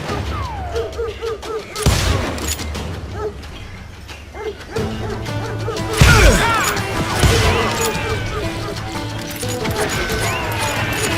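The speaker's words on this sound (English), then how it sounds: "Shoot that bastard!" Gunfire from the Red Dead Redemption 2 video game, a few sharp shots and a short burst amid dog barking and mechanical clatter, fairly loud and close.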